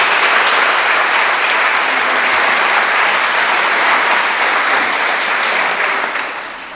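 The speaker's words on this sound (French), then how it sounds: "Et ça mérite une bonne main d'applaudissement encore pour tous les gens qui ont participé" Sustained, dense applause from an audience at a closing ceremony for a town's festivities, loud and even for several seconds before starting to fade near the end.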